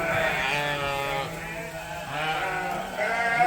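Ewe lambs still in their wool bleat on a sheep farm, several overlapping calls in loud, wavering cries that run almost continuously, close by, with no talk.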